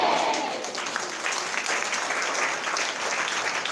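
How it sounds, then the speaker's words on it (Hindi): Audience in a Sunday church meeting breaks into steady, dense applause, a close wash of many hands clapping evenly throughout with no voices standing out. "जोरदार ताली जोर से ताली बजाओ, परमेश्वर की महिमा करो।"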